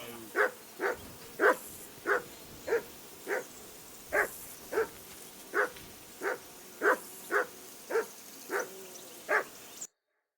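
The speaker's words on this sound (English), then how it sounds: "I assume you can hear that damn dog of yours barking." A dog barks over and over in Kingdom Come Deliverance II, fairly evenly spaced single barks, about fifteen in all, moderately close against a quiet background.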